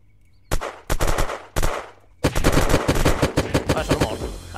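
Gunfire in the video game Unturned: a few separate loud shots, then a long rapid burst of automatic fire, close and sharp, with no talking over it.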